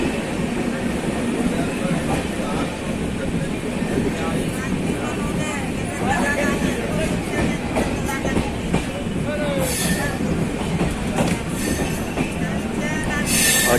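Kiul-Malda intercity passenger train (13410) running on rails in Bihar, recorded from on board: a steady, loud rolling rumble of wheels on track with occasional squeals and clatter.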